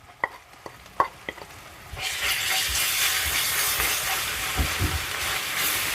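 Ginger garlic paste hits sautéed onions in a pan for a brinjal curry. A few light scrapes and taps give way to a sudden, steady loud sizzle and hiss.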